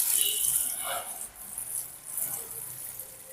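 Water poured from a container into a freshly repotted ground orchid, a continuous close splashing trickle for a few seconds with slight rattling, no voices.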